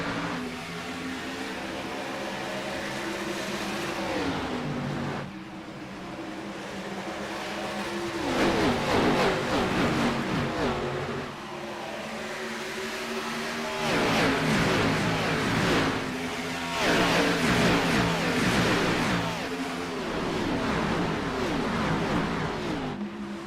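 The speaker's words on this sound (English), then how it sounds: "Green flag flies, and we're racing in Florida." Race cars roar around the Homestead-Miami oval in iRacing, engines whining up and down as a close pack of cars passes in repeated loud waves.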